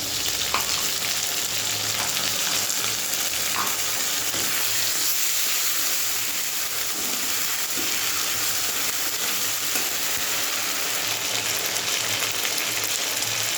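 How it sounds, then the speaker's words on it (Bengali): Ginger-garlic paste frying in a pan for a thin curry: a steady, even sizzle holds throughout, with a few faint clinks of stirring and no voices. "আদা রসুনের পেস্ট দিলাম, অল্পই দেবো, পাতলা ঝোল হবে।"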